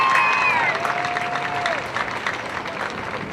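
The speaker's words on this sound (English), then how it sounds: "How about a round of applause for our host?" A crowd at a university sports event between Ottawa University Arizona and Olivet Nazarene applauds its host, a dense, steady round of clapping with a few scattered cheers and a whistle-like tone gliding through at the start.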